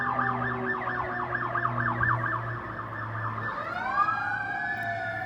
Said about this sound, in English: I guess this is important as the sirens are going off.